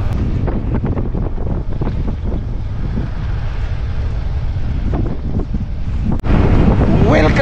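Strong wind buffeting the microphone beside the water near a small clear stream in Tubod, Lanao del Norte, a loud continuous rumbling roar with no talk.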